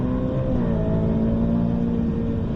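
A car on the Circuit de Bresse race track accelerates hard, its engine holding a loud, steady, rising drone with a dense low rumble, alone without voices.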